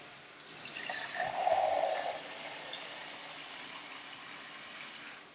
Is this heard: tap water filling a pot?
yes